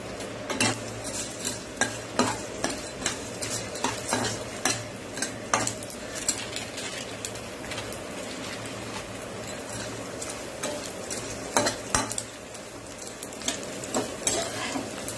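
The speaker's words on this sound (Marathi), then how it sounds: "आता हे तूप भाजलं ना मग आपण हे डिंक त्यात टाकणार आहोत." Edible gum (dink) frying in a bowlful of ghee while being stirred with a utensil, steady soft sizzle beneath repeated sharp clinks and scrapes of the spoon against the pan, close and continuous.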